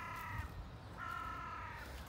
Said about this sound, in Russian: Вот, ворона орет вообще.